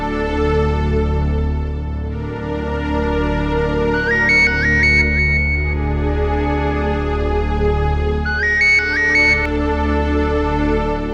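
A telephone ringback plays while a call is being placed, with two short trilling bursts several seconds apart over a steady background music bed.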